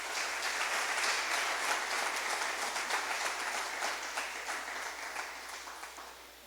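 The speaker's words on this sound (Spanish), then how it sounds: "Denle un fuerte aplauso al Señor en esta hora." A church congregation applauds the Lord during a Spanish-language sermon, sustained dense clapping from a large crowd that holds steady for several seconds, then tapers slightly toward the end, with a low hum beneath.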